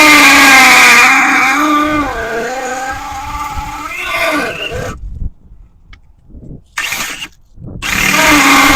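Gas-powered auger used to dig planting holes in a garden: a loud, wavering engine whine that revs and drops, then cuts out into silence with a few short sputtering bursts before roaring back.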